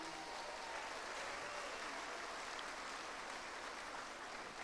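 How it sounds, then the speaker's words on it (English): An audience at a Democratic Party political dinner claps together, a steady, even wash of applause from a large crowd that holds throughout without talk, moderately distant and soft. "Give your neighbor a round of applause,"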